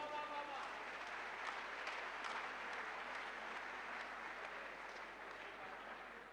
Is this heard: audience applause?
yes